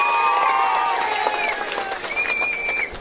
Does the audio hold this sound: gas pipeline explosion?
no